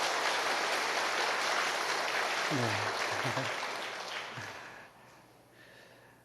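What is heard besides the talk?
congregation applauding in blessing for church elders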